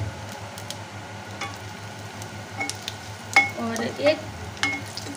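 Spice masala mix hits hot oil in a frying pan while cooking Hindi-style achari arbi (taro root), giving a soft steady sizzle with occasional clinks and scraping from stirring.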